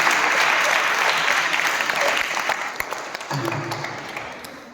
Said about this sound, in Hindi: उसके लिए मैं चाहता हूँ कि एक बार जोरदार तालियां बजनी चाहिए